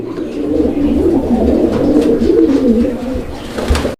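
A male pigeon coos in a steady, low, throaty rumble that carries on without pause, close by and fairly loud.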